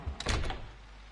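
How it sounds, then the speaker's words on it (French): A door swinging shut inside a horror video game, a short muffled thunk with a brief rattle, fairly close and low in level, alone with no talk over it. "mais rien qu'une porte qui se ferme, ça me fait peur"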